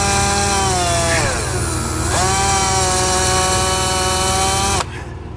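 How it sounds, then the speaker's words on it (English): A power drill whines loudly and continuously, its pitch dipping under load twice as it bites into a car's metal frame for a trailer hitch, then cuts off near the end. "We're going to take a drill bit and we're going to drill this hole out"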